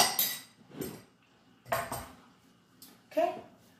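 Fried cabbage and sausages stirred in a pot, a spoon scraping and clinking against the metal in three separate bursts with quiet gaps between.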